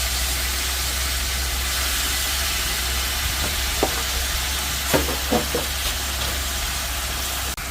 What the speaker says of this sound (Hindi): अब इसको मैं हिलाऊंगा, क्योंकि ये मसाले उसमें बटख में मिक्स करना है, बढ़िया से मिलाना उसमें